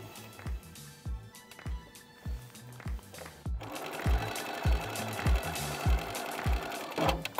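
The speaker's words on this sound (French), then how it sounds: "Et maintenant, je pique en point droit avec mes griffes." A Grace Company Little Rebel 2024 sewing machine sews a straight stitch, a clear regular series of rhythmic mechanical thumps with a whirring motor hum that grows louder partway through.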